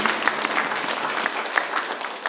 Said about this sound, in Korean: 서로에게 박수 한번 응원할까요?